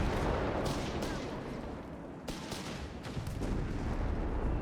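Heavy gunfire from Stuart light tanks in a Company of Heroes 3 battle, a dense, continuous roar of overlapping shots and blasts with sharp cracks near 1, 2.3 and 3.3 seconds, loud throughout with no clear pauses.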